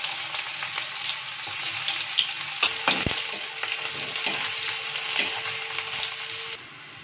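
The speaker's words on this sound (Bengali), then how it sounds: "আর দিচ্ছি কুচো পেঁয়াজ।" Chopped onion fries in mustard oil with a dried red chili, a steady close hiss and crackle that runs without letup and then dips slightly near the end.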